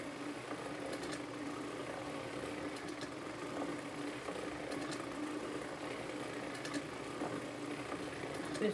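A circular sock knitting machine runs with Lycra yarn fed in, giving a steady mechanical whir with faint repetitive clicking that holds at an even level throughout, with no talking.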